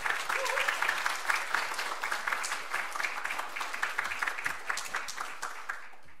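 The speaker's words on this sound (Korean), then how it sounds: "이 시간에 우리 목사님 나오실 때 우리 박수로 환영해 주시면 감사하겠습니다" Church congregation applauding to welcome the pastor, a sustained patter of many hands clapping, moderately distant and even, fading out at the end.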